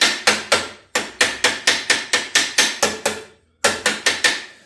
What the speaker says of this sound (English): you're basically tapping something that's about as wide as the weld